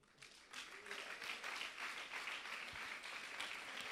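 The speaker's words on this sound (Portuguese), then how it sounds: "Pode aplaudir." A church congregation claps steadily in dense, sustained applause that fills the whole stretch at an even level, with no voices standing out.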